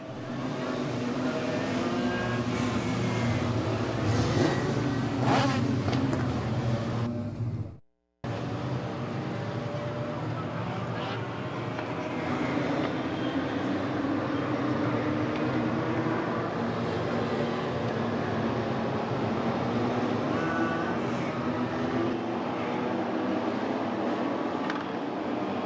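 Legends race cars lapping Midvale Speedway, a loud continuous roar of engines with a brief dropout around eight seconds and wind buffeting, while a voice speaks faintly under the noise.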